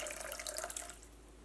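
Plain water poured into a small container over two tablespoons of basil seeds for soaking, a short, faint splashing trickle that fades out after about a second.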